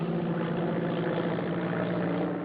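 An airplane engine drones steadily in flight, a loud, even low rumble with no breaks.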